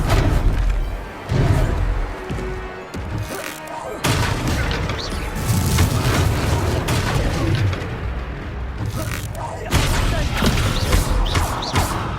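In the Hogwarts Legacy video game, a Confringo spell blast goes off amid loud, repeated booms and crashing impacts over continuous game sound, with a voice shouting during the action.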